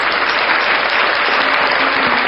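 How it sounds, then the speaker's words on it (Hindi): An audience bursts into dense, loud applause at a talk on Adivasi beliefs, sustained clapping that fills the whole moment with no voices over it. "ताली बजाना पड़ेगा।"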